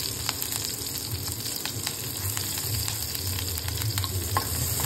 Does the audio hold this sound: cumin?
yes